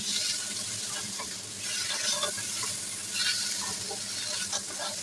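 Beef tripe stir-frying with rock sugar in a wok gives a wet sizzle broken by scraping stir strokes and watery bubbling. The sound swells and fades in uneven bursts, with no voices.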